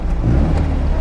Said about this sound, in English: I double clutch going into second